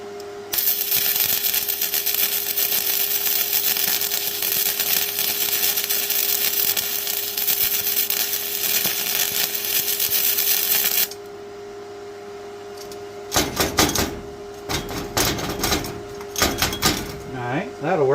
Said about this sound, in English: So let's try and plug weld this one